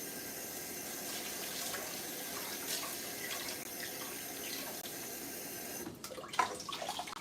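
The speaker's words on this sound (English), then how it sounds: "So I'm washing the rice." Tap water runs steadily into a pot while rice is washed in a home kitchen, a constant splashing stream that turns choppier and more uneven near the end.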